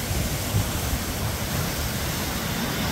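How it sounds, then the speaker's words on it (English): A waterfall near Ortega Highway in Orange County roars as a steady broadband wash of falling water, close and loud, with no voices. "The waterfall's right there."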